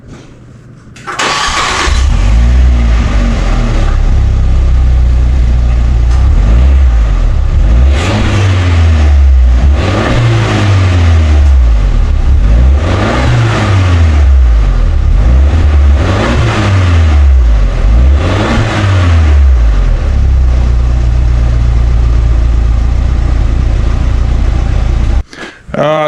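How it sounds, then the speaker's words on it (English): A car with its stock factory exhaust starts up loudly, then gets revved in a series of about six rising and falling sweeps with idle between them, close and dominant for the whole stretch. "But that's the factory exhaust."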